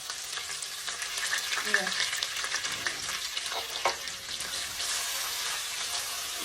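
Garlic and ginger fry and sizzle in a pan for a mutton curry, a steady crackling hiss with a few stirring scrapes, plus a brief word spoken over it.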